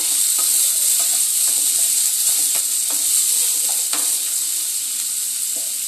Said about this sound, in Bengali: টমেটো কুচিটা দিয়েও ঠিক একইভাবে নাড়াচাড়া করে নেব।